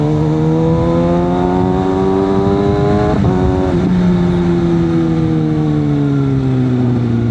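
A 2022 Kawasaki ZX6R motorcycle accelerates hard while overtaking on a Philippine super highway, its loud high-revving engine whine climbing steadily, with a brief dip around a gear change before pulling on, close and alone.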